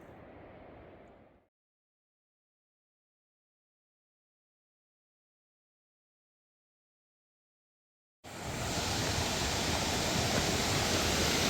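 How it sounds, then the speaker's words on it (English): Miners Creek on the Pacific Crest Trail, water flowing steadily as a loud, close, broadband rush that begins suddenly after a long stretch of silence. "This is Miners Creek."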